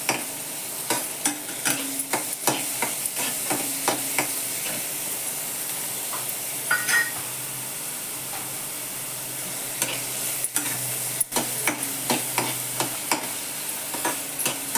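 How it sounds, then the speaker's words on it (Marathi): Onion and bell pepper sautéing in a pan give a continuous close hiss, punctuated every second or so by sharp spatula scrapes and taps as they are stirred, with no speech. "परतून घेते जरा कांदा, शिमला मिरची."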